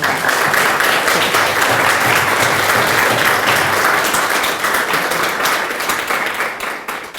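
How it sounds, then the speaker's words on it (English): Loud, sustained applause from a large audience, dense clapping that holds steady and then begins to taper off toward the end. "Why don't we give them a little round of applause?"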